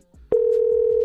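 A telephone dial tone sounds while a call is placed, a steady, loud, continuous tone starting after a short click and holding to the end.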